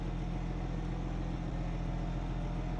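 Inline-six car engine in the racing game BeamNG, a steady low mid-pitched drone held at an even level throughout, close and alone with no talk.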